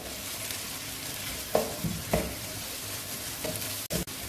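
Sausages and peas tipped into a frying pan of rice for shrimp fried rice, giving a steady close sizzle with a few sharp scraping clatters as the food lands and gets stirred.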